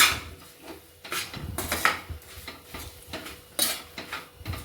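A spoon scrapes and clinks against a pan while sukhdi mixture is stirred over low heat, with a steady rhythm of close, uneven metallic strokes and a faint sizzle beneath.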